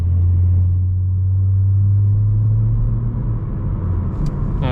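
Steady, deep exhaust rumble from a BMW M3 Competition with an aftermarket axle-back exhaust droning inside the closed cabin, loud and constant with no talking.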